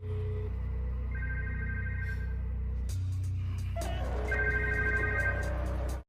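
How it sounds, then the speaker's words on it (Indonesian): A council member's mobile phone rings in a film scene, a steady electronic ringtone with repeating tonal phrases over a low constant rumble, loud and close, with no voices. "ponsel milik salah satu anggota dewan pun berbunyi saat Zilong menghubungi nomor tersebut"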